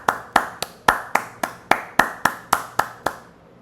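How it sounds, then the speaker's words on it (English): Steady, crisp applause from a played video clip: about a dozen evenly spaced, sharp hand claps in a slow rhythm, close and clear, with no talking over them. "First video back and she already get a smoking applause."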